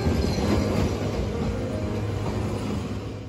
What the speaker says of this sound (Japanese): ただいまやってきた列車が三峰口行き普通列車ということですが